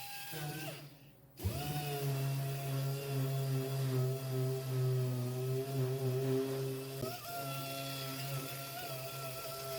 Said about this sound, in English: we're going to finish it off with this little mini DA dual action sander with some 80 grit